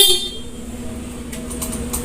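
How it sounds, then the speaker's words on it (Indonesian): A short horn beep from a scooter, close and clear, followed by a steady low idle with a few faint high blips. "Kita lihat klaksonnya."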